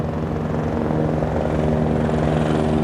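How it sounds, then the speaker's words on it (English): A Texas DPS helicopter flies overhead during flood rescue efforts, its steady rotor thump and engine drone loud and continuous with no talk over it. "you can hear actually a helicopter flying over past right now"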